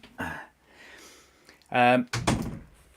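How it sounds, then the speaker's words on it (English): A door thumps and bangs shut, a couple of solid knocks close by, with voices talking in between. "Just shut the door."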